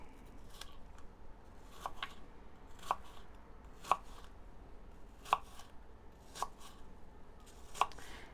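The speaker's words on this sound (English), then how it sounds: "And yes, again, I'm chopping this down." Fruit and vegetable skins being chopped with a knife on a board as chicken feed, giving sharp, evenly spaced chops roughly once a second, close and clear over a quiet background, with no talking.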